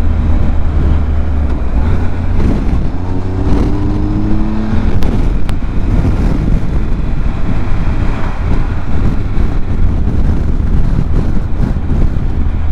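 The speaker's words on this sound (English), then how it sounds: "So I'll do a couple of gear changes without saying anything about it." A learner's motorcycle engine runs loud and close, revving up through a couple of quick gear changes with brief dips in pitch between pulls, partly masked by heavy wind rumble on the microphone and with no talk.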